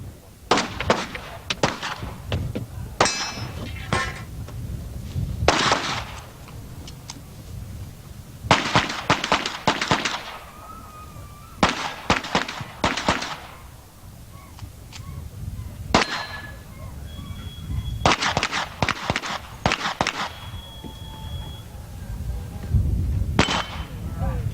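Pistol shots at a USPSA national championship shooting competition, sharp bursts of rapid fire in clustered strings with short pauses between stages, loud and echoing outdoors, with occasional faint voices in the background.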